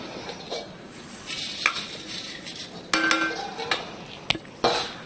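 Kamarkas roasts in ghee in a pan, a steady background sizzle broken by scraping stirs and several sharp metallic clinks of the spoon against the pan, close and without speech.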